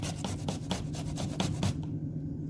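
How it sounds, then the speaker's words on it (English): Fresh stringy ginger is rubbed across a small grater in quick, even rasping strokes. The scraping is close and steady for about two seconds, then stops. "we wanna use a small grater to really make sure we're cutting into all those fibers"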